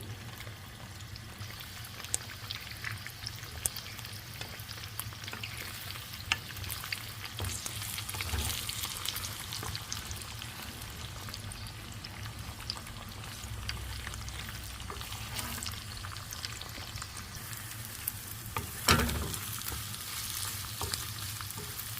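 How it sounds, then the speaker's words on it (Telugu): An egg frying and being mashed in an oiled pan while making street-style Hakka noodles, with a continuous soft sizzle and scraping stirs, plus a brief louder clatter near the end, with no voices. "ఒక ప్యాన్లో ఆయిల్ వేసేసి ఎగ్ అయితే తీసుకున్నాను ఈ ఎగ్ని ఇప్పుడు మ్యాష్ చేద్దాము"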